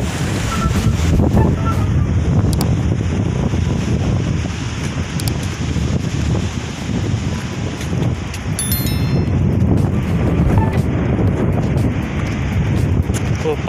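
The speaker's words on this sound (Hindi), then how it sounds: "हवा भी तेज है, हवा बहुत तेज चल रहा है" Strong wind buffets the microphone while sea water surges and roars at a ship-beaching site on the shore, a loud continuous rushing mass of wind and waves.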